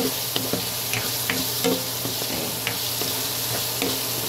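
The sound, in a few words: meat sautéing with onion, garlic and tomato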